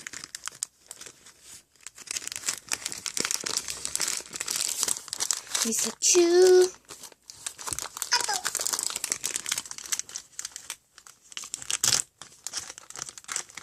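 Paper packaging from a Daiso product crinkles and rustles in bursts during unpacking, close and fairly loud, with a person talking intermittently over it.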